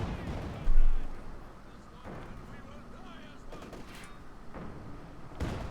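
Company of Heroes 2 battle gunfire: one loud thump early on, then scattered shots and bursts crackling at moderate distance over a low rumble.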